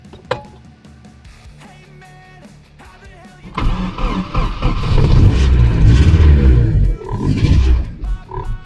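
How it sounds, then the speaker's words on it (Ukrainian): A VAZ 21104 car engine, on a freshly charged battery, is cranked. After a few quiet seconds of faint clicks and taps, the engine catches and roars loudly close by, running with an uneven, throbbing idle. "от зараз перевіримо, як він цього двигуна прокрутить"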